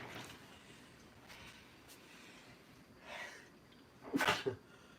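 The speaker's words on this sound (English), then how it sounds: "I am so sorry that I'm sneezing so much" A man sneezes loudly near the end, preceded by softer sniffs and breathy huffs over quiet background, all close to the microphone.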